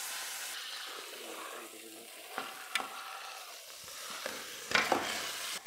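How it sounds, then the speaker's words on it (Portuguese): Meat frying in oil in a cooking pot, a steady close sizzle with a few stirring clanks and scrapes rising over it. "Vou colocar o óleo. Vou colocar a carne na panela."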